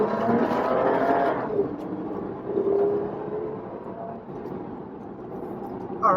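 Toyota FJ Cruiser with a 1GR engine and an ECU flash tune pulling away from inside the cabin, engine note rising loud and then easing into a lower steady drone, with a faint voice at times.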